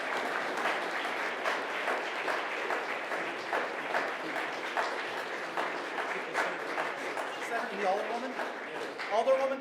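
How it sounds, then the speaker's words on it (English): Dense, sustained clapping from a large crowd fills the space, steady and enthusiastic, with a few voices faintly rising near the end. "Everyone, give a round of applause for Alderwoman Sue Sadlowski Garza."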